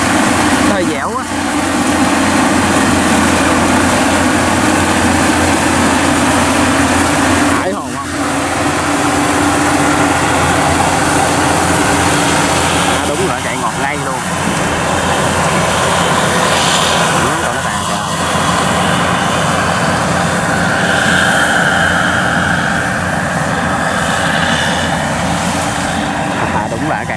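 A Yanmar YH850 combine harvester runs steadily while cutting in a rice field, its engine giving a continuous loud drone with faint shifts in load, and someone talks over it throughout.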